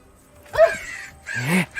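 A crow caws twice, harsh, close and loud, with a short quiet gap between the two calls and no other sound competing.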